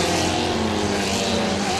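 A Formula One-style racing car engine at a Grand Prix Masters race in Qatar drones steadily and loudly with dense high-pitched harmonics, a continuous roar without breaks.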